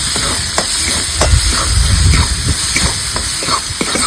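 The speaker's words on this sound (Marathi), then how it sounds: "हा मसाला आपला परतून झालेला आहे आणि तेल बी एकदम किती छान असं सुटलेले" A masala of onion and garlic fries in oil with a loud, steady hiss and sizzle, close up, broken by scattered spatters and a few stirring scrapes.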